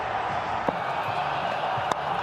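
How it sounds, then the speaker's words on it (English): A Pakistan cricket crowd at a packed stadium roars continuously as a boundary is struck, a dense sustained wall of cheering with a couple of sharper whoops rising above it. "Pakistan crowd on their feet out at mid-wicket"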